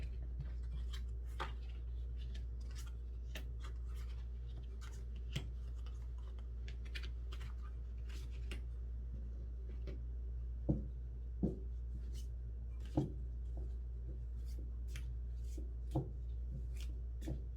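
Tarot cards being laid out and spread on a surface, heard as soft, sparse taps and light flicks spaced a second or two apart over a steady low background hum, close and quiet with no talking.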